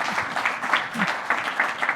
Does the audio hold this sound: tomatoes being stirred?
no